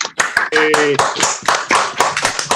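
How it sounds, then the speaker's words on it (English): Scattered, uneven applause from a small group on an online call, with a brief voice cutting in partway through. "give him a round of applause"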